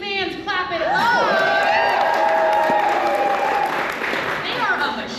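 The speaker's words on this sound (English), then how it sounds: "Izzy fans, clap it up." A live audience at a science-themed stage show claps and cheers for a performer, with dense sustained applause, whoops and shouts filling the room throughout at full volume.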